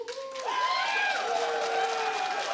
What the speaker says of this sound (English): I thank you for the applause.